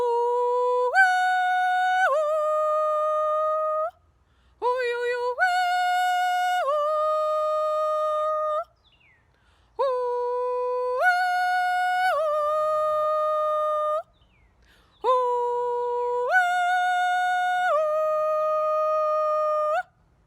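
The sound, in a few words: holler calling workers in for a meal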